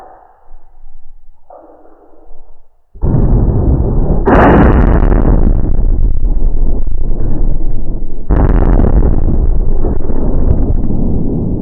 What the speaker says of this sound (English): Get you set up on the scope, and we'll take a shot.